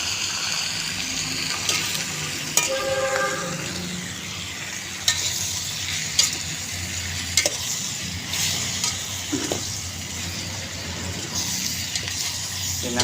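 Beef papaitan simmering in a pan with chili and peppercorns, sizzling steadily while a utensil stirs and scrapes through it, with a few sharp clinks against the pan; the sizzle stays continuous and close throughout.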